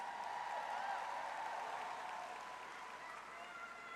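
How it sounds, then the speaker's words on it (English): Sustained applause from a large crowd at a university commencement ceremony, steady and fairly distant, filling a big hall or stadium while the graduating students stand. "Give them some more round of applause,"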